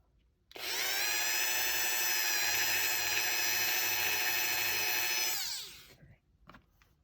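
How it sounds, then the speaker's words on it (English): A Dremel rotary tool grinds plastic in one steady, loud high-pitched whine lasting about five seconds before spinning down, with no talking over it. "Problem with some of these plastics is the Dremel just heats it up and it melts it,"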